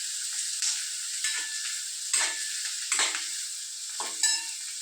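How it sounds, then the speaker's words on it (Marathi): Onion and tomatoes sauté in a pan with a steady bright sizzle, broken by several scraping stirs of a spoon against the pan, up close and without talk. "आणि कांदा परतला की नंतर आपल्याला टोमॅटो टाकायचे आणि तिखट हे नंतर टाकायचे."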